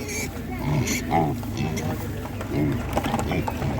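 Piglets grunt and squeal in short, rising and falling bursts at a busy rural animal market. The calls are mixed with steady crowd noise and nearby voices.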